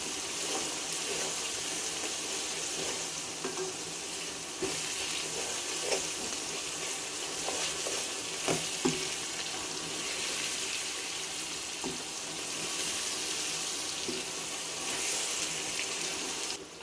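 Masala with onions and tomatoes sizzles in a pan for bhindi, a steady broadband hiss with occasional soft pops and stirring clicks and no talking.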